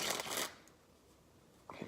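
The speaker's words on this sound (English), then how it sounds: "You just drag that card out, shoot it out, and you catch it." A playing card snapped out of the deck in a hot shot flourish, heard as a quick papery flick and riffle at the start, then near silence and a short card snap at the end.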